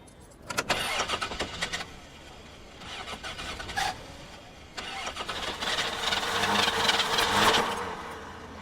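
An old van's engine cranks repeatedly without catching: several bursts of whirring starter grind separated by short pauses, the last and longest attempt swelling louder, heard up close with no talking.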